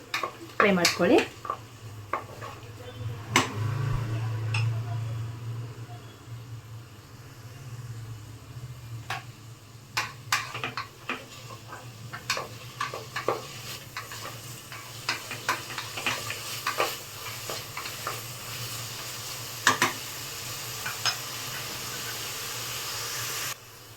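Tomatoes frying in oil in a pan for vangi bath, a steady sizzle running throughout with frequent scrapes and clacks of a spatula stirring, and no talk.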